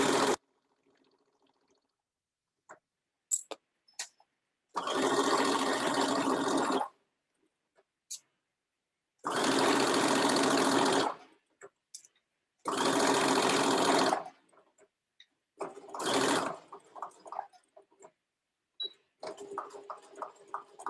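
A sewing machine stitches across the bottom of a pant pocket bag in several sustained runs of a few seconds each, separated by quiet pauses with small clicks and handling sounds.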